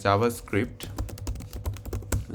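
Close, crisp keyboard typing as a search goes into Google, a quick run of distinct key clicks after a couple of short louder taps at the start, with a faint voice-like sound early on.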